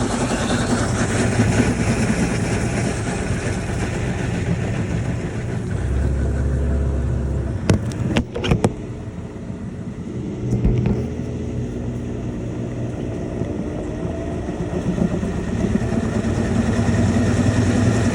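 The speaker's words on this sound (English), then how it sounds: "During a spin cycle, when it's rinsing out, tells you CC men's rinse." A portable washing machine in its spin cycle, used for laundry while boondocking, giving a loud, steady mechanical whir and rumble with a few clicks and knocks partway through.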